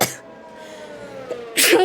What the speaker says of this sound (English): It's just a bit of a sneeze, which turned into a cough.